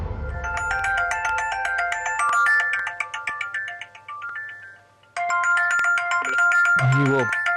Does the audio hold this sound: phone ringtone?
yes